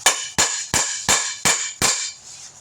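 Six sharp metallic hammer blows on a drive shaft U-joint land in a steady rhythm, each ringing briefly, close and loud, with no talking.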